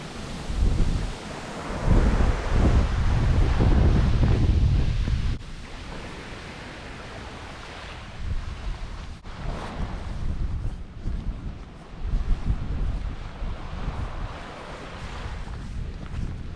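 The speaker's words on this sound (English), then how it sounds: "The nice calming sounds of the waves, soothing breeze" Waves washing onto a Lake Michigan beach on a sunny January day, with heavy wind buffeting the microphone in gusts and surf rolling steadily beneath, no voices.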